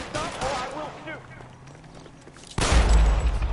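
A gunshot fired at a civilian in the video game L.A. Noire, a loud sudden blast with a heavy low-end boom near the end, after a stretch of game voices and background sound.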